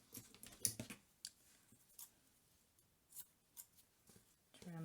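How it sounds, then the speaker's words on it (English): Scissors snip the ends off ribbon on a scrapbook Valentine's Day card, a handful of crisp, quiet cuts spaced irregularly at close range. "Trim them off."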